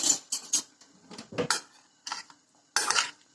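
Salad of vegetables and arugula seasoned with pepper and salt, being mixed in a bowl: irregular close clinks and scrapes of utensils against the dish in short bursts, no talk.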